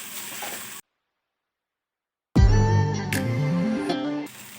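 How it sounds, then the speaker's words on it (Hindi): Ginger hitting hot ghee on a small burner, a sudden loud sizzle after a moment of silence that settles into steady frying with a few stirring scrapes, close up. "तो हल्का सा फ्राई करना है, जस्ट कोटिंग हो जाए इसके ऊपर घी की।"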